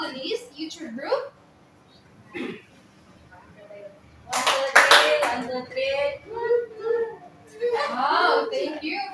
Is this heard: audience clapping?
yes